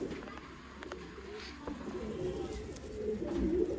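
Pigeons of an old line breed coo softly in a loft, low rounded calls rising toward the end amid faint background noise and no clear speech.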